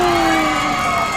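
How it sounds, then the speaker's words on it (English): Panthers fans cheering and shouting in the stands at a high school Rocket League championship match, a dense, loud crowd roar held steady throughout with a sustained tone running over it. "the Panthers fans go wild in the crowd"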